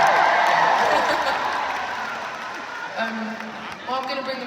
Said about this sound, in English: Ladies and gentlemen, round of applause for everyone